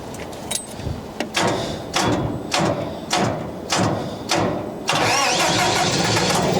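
A ventilation vehicle SVU engine cranks in several repeated bursts, then catches and settles into a loud, steady running roar close to the microphone.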